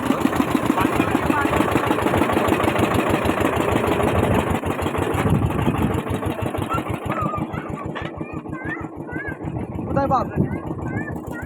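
A small boat's engine chugs with a steady pulsing beat as it carries passengers on a morning jungle safari in the Sundarbans, staying loud and close throughout while birds chirp faintly near the end.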